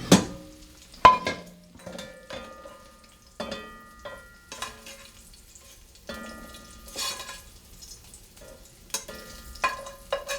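Lardons fry in their rendered fat in a pot, a quiet crackle and sizzle broken by sharp clinks and scrapes as a slotted spoon lifts and stirs them; close and fairly faint, with no talking.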